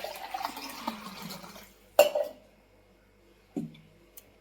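Water splashes briefly into a metal vessel, a small pot filled for making spiced buttermilk, followed by two sharp metallic clinks and a quieter tap.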